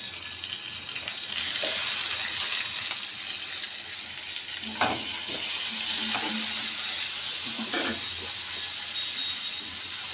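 Onions and curry leaves frying in a pan with a tomato added, giving a steady hiss with a few scraping stirs of a spoon against the pan, heard alone and close.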